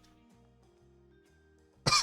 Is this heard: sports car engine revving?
no